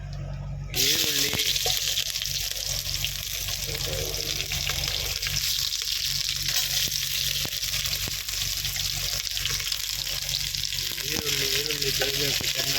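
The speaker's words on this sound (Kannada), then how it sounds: "ಸೊ ಬ್ರೌನ್ ಕಲರ್ ಬರೋವರೆಗೂ ರೋಸ್ಟ್ ಮಾಡ್ಕೊಳ್ಳೋಣ" Onions roast in a pan inside a truck cab, with whole cinnamon and cloves already in the oil, giving a steady, continuous sizzle and hiss throughout, with faint clinks and brief murmured speech beneath it.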